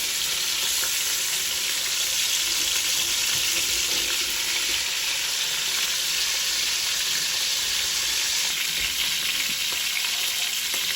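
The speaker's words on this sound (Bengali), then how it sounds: "আমি বাকি পিসগুলো ভেজে নিব।" Chicken pieces for a shahi chicken roast fry in hot oil with a steady, loud, continuous sizzle and crackle that runs the whole time without any talk.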